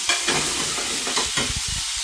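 Ginger garlic paste for chicken tikka masala sizzles and spits in hot oil, a loud close crackling hiss with faint stirring scrapes, no voices over it.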